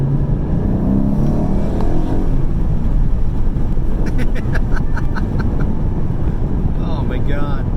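A 2021 Ford Mustang GT with a V8 and stock exhaust drives along, its muffled engine drone steady throughout under heavy wind rush, with a few short clicks near the end.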